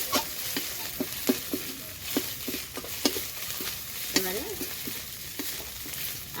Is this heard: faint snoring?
no